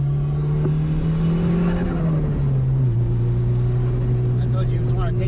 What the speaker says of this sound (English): I'm enjoying driving my car